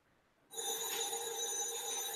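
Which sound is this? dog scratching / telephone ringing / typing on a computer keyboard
telephone ringing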